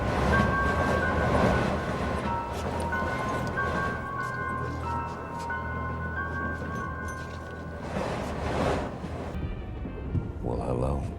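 A low, continuous train-interior rumble runs steadily under the scene, with faint rattles and a hushed voice over it.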